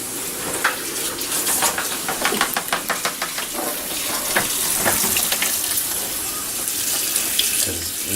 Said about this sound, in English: First thing you want to do is you want to rinse it out.